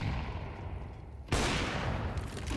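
Gunfire in a first-person shooter match replay, a sudden loud burst of shots after a quieter stretch of game ambience, with no voice over it.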